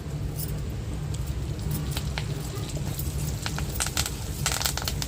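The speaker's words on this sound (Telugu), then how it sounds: "మంచిగా అయితే చిట్టపట్టలాడుతున్నాయి కదా" Curry leaves and garlic crackling in hot oil while frying fish, a steady low sizzle with scattered sharp pops that grow busier toward the end.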